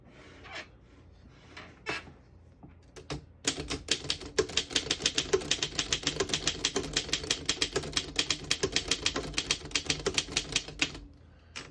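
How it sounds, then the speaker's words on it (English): Keys of a 1929 Underwood No. 3 manual typewriter striking in a quick, steady stream of sharp clacks after a few isolated taps, close and crisp, with no talking. "I'll type a sentence on the next line."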